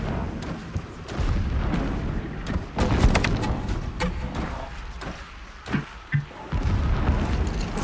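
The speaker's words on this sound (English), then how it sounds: "Explosions in the distance." Distant explosions in the Horizon Zero Dawn game world, a series of low booms and sharp bursts that thud irregularly over a rumbling background, with several heavier blasts standing out.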